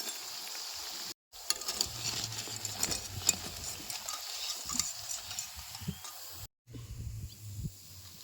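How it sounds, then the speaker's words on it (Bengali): Steady crackling sizzle of bread chops frying in hot oil, with a few brief drops to silence; occasional soft scraping in the background. "এই নাস্তাগুলোর দুই পাশে ওই ভালো মতন ভাজে নিছি"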